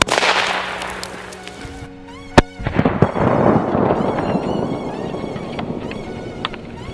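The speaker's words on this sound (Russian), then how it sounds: "если Корсар 12 просто приложить к кокосу и подорвать его" A Korsar 12 firecracker glued to a coconut detonates outdoors at a test range with one sharp, loud bang, followed by a short crackle and a lingering rumbling echo.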